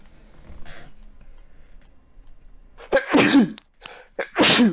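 A single sharp human sneeze bursts out up close during a Fortnite duos session, quickly followed by a second sneeze-like burst, after a quiet stretch with faint background sound.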